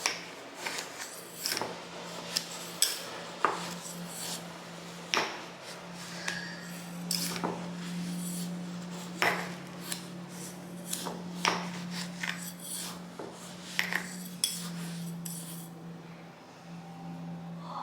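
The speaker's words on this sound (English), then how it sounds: "let's just stir it up and see what it smells like" A mixture of castor oil and drops of added oil is stirred in a small dish, with repeated close clinks and scrapes of a utensil against the container over a faint steady hum, no talking.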